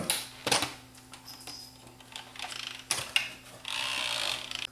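Plastic snap catches on the circuit board of a Bose 321 DVD drive pop free as a few sharp close clicks and small rattling scrapes, in a quiet room without talk.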